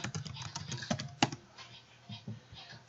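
Rapid keystrokes on a computer keyboard, close and clear, with uneven bursts of clicking and short pauses while a search is typed in.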